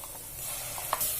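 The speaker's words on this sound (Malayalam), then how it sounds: "മിക്സിയിൽ അരച്ചെടുത്തിട്ടുള്ള അരപ്പ് ഇതിലേക്ക് ചേർത്ത് കൊടുക്കാം" Ground masala paste, blended in a mixer, is stirred into frying onions in a pressure cooker for beef vindaloo: a steady soft sizzle with scraping stirs and one brief louder clank near the end.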